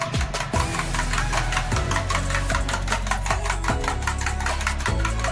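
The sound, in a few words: whisking eggs with salt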